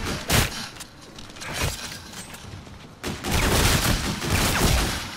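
Gunfire at zombies in Call of Duty: Infinite Warfare, with rapid bursts and single cracks coming in uneven clusters, louder and denser toward the end.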